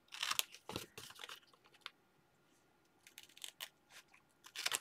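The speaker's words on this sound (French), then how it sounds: "Je viens couper mes carrés formés par l'angle de mes 2 plis" Scissors snip through paper squares for a flower-shop scrapbook album page, a series of quiet, close, crisp cuts in short bursts separated by pauses.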